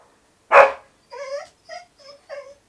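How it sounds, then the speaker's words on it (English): Chewy, a house dog, gives one sharp bark and then four shorter yelping barks in quick succession, close by and alone against silence. "Excuse my dog barking."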